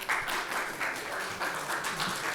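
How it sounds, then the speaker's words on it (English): A conference audience applauds after a session at a tech business event, steady mid-distance clapping from a moderate-sized crowd, soft and even without talk. "let's give them a round of applause"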